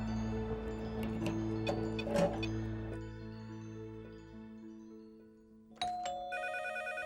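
A telephone bell and a doorbell ring together in a home, bright repeating electronic tones layered over each other, with a sharper burst of fast ringing near the end.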